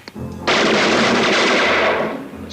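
A burst of rapid gunfire from a gun rings out in a 1983 Universal or Paramount movie trailer, loud and continuous for about two seconds after a brief lead-in.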